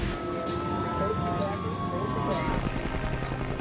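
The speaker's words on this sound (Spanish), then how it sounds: "Nueve helicópteros y 34 ambulancias evacúan a los supervivientes." Helicopters evacuate survivors at the Sioux City emergency-landing crash site, a steady rotor drone mixed with wavering emergency sirens, with voices speaking over the scene.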